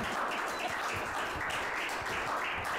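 Applause from an audience at the Fonó25 awards gala, a dense steady wash of many hands clapping throughout, fairly even in level with no speech over it.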